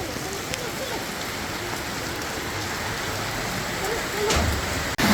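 Heavy rain pours down steadily, a dense constant hiss of drops on surfaces, close and loud throughout.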